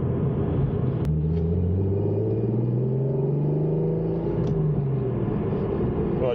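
An Alfa GTV with a 3.0 V6 engine accelerates on the road, a deep engine drone rising slowly in pitch and falling back, heard from inside the car over a constant low rumble.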